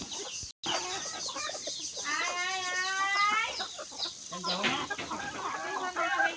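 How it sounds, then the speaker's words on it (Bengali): A flock of farmyard chickens clucks and squawks while feeding on grain and broken maize, with one drawn-out warbling call standing out in the middle, all close by and steady, and someone speaking now and then. "এটাও মালা মুরগি"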